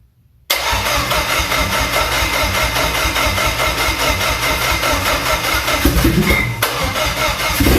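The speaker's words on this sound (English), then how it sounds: "I actually fired it up momentarily on the stand." A car engine cranks and roars to life after a brief silence, then runs steadily at a loud, rough idle close by.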